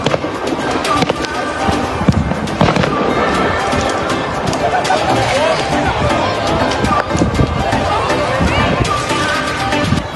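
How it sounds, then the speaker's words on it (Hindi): Fireworks and firecrackers crackle and pop in repeated sharp bursts at a Bonfire Night gathering in England, mixed with crowd noise and someone speaking over the bangs. "बाकी लोग तो यहाँ चला रहे हैं पटाखे पटूखे सारे।"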